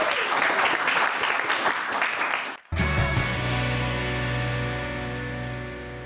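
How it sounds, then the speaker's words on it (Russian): A studio audience at a Russian television quiz show applauds loudly for a couple of seconds, then the clapping cuts off abruptly and gives way to a sustained musical tone. "Павел, студия аплодирует именно вам."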